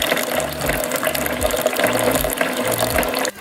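A blender whirs loudly while frothing bulletproof coffee made with butter, a dense churning mechanical whir with pulsing, slightly ratcheting surges of motor pitch that cuts off abruptly near the end.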